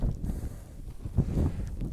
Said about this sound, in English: The tarp is pegged really tight. You can see how tight it is, but the wind's just catching it.